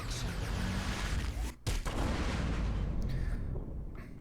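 D.Va's mech self-destructing in Heroes of the Storm, a loud, dense rumbling explosion that fills the whole span, briefly dipping once before roaring on and tapering slightly at the end.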